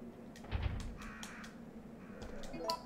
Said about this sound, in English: See if we can get through here without getting attacked by the birds.